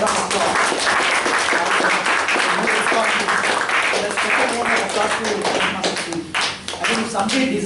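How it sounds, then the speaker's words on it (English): Loud, sustained applause from an audience at an office bearers installation ceremony, dense clapping filling the room with a slight dip near the end and voices mixed in underneath. "Let's give a big round of applause."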